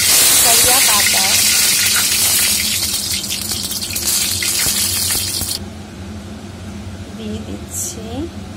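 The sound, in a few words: cumin seeds and curry leaves sizzling in hot oil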